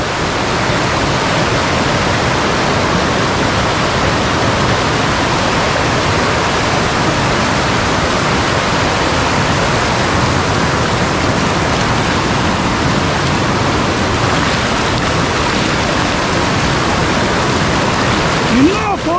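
Steady roaring rush of the Kallar Meenmutty river waterfall in Kerala, falling in heavy rain, a loud broadband wash that holds constant throughout with no clear voices above it.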